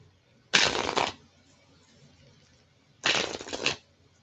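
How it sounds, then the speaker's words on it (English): Two quick riffles of playing cards being shuffled, each about half a second, separated by a short quiet pause. "Okay, I'm just going to shuffle these."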